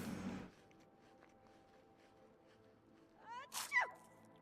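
A game character sneezing in Project Zomboid, a short high-pitched squeaky sneeze burst near the end after a quiet stretch of faint background hum and an abrupt noise at the start.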